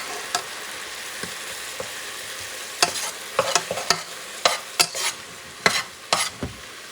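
Spiced lamb and chicken are stirred in a sizzling pan, with a soft continuous fry underneath and a run of sharp utensil scrapes and clacks that grow frequent in the second half, up close and with no talking.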